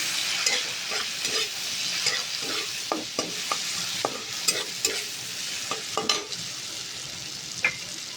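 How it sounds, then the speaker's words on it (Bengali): Banana flower (mocha) frying in a pan with salt and turmeric sizzles steadily while a spatula stirs and scrapes, leaving irregular clinks and scrapes over the continuous hiss. "আমি এটা একটু লাল করে ভাজা করবো।"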